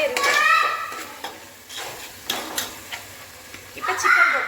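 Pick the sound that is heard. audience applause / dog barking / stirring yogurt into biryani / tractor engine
stirring yogurt into biryani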